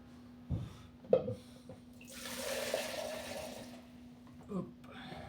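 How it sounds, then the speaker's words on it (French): Water splashes and trickles into dough for Mexican spiced bread in a brief, soft pour of about a second, with faint handling noises before and after. "on met un peu d'eau"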